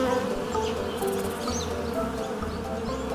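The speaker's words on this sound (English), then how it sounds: "there lived a diligent bee named Buzz." A bee buzzes steadily in a garden setting, a continuous close drone that holds for the full few seconds with no talk over it.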